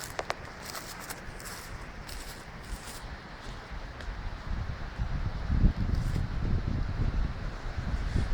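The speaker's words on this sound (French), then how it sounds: "on a quand même pas mal de vent" Strong, gusty wind roars at an outdoor bushcraft camp, rumbling steadily with swelling gusts and buffeting the microphone, alongside faint rustling and a few light knocks.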